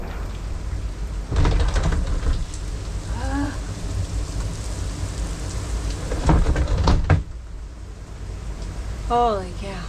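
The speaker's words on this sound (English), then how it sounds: "It's raining so hard." Heavy rain pouring down outdoors during a thunderstorm near a small-boat channel to Parry Sound on Georgian Bay, a steady loud hiss with low rumbling and brief voices on and off.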